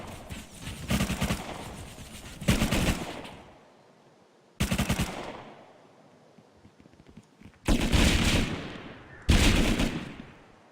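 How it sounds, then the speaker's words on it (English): Automated turrets in the game Rust unleash rapid bursts of rocket and gunfire, several loud clustered volleys separated by pauses with decaying booms and echoes, no talking. "Now apparently these turrets can shoot rockets as well."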